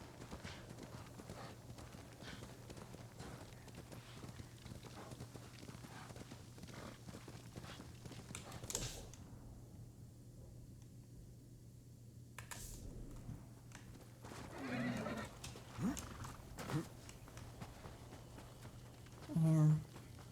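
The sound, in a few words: horse galloping, from the video game Ghost of Tsushima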